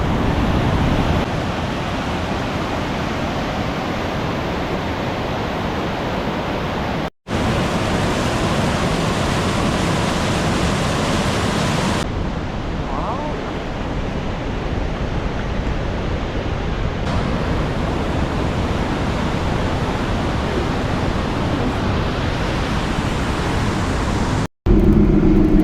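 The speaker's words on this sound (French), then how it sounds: "L'eau descend de toutes parts," Strong water cascading down nearby beside a large mosque in Trabzon, Turkey, a steady, loud, broadband rushing roar that continues without pause, with two brief cuts in the sound.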